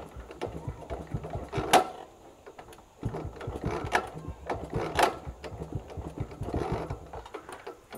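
A Yezdi Roadking two-stroke motorcycle is being kick-started, heard as a series of sharp mechanical clacks and rattling thumps of the kick lever, moderately loud with no talk.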